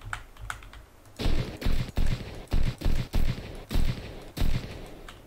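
Gunshots from an Unreal Engine 4 game firing with the AGR PRO system: about eight sharp, loud shots in a quick, fairly even sequence after a second of quiet background.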